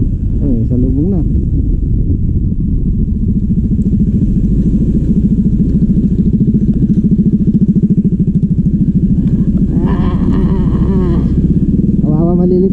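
A small motorcycle rides over a deep, rocky road on the way to a beach camp in Lian, Batangas, its engine droning and rattling steadily throughout with people talking over it.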